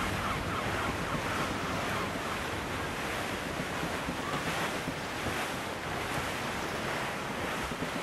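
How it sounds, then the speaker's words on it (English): Strong wind gusting over ocean waves at sea while sailing in Assassin's Creed 4 Black Flag, a steady, loud broadband roar of surf and wind buffeting with no pauses. "There's a strong wind now."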